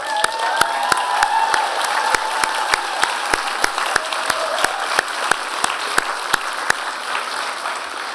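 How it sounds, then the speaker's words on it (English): Applause fills a hall at a graduation convocation, a broad continuous clapping crowd with a few scattered sharp claps standing out near the microphone, with faint voices mixed in. "I wonder if you would join me in a round of applause for your amazing family and friends and staff and faculty"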